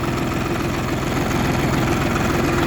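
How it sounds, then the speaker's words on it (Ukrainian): A new Lovol 244 mini tractor fitted with a dozer blade idles close by with a steady, low, throbbing rumble and a fast, even pulse. "Трактор новый."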